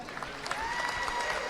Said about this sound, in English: let's give them all one big round of applause